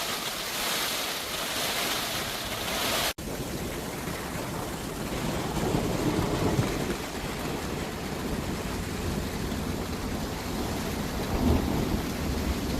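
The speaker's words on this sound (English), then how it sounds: "Maybe not so heavy like, but by golly, thunder as well." Dense, steady downpour of torrential rain with a broad rumbling wash of thunder underneath, continuous and enveloping, with no voices.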